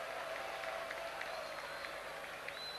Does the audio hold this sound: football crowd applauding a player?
yes